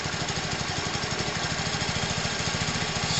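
A small engine runs with the revs raised during a charging-system check, a steady rapid chugging pulse that stays constant and loud throughout.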